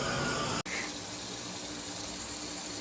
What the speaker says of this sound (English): after several minutes we got a good stream of water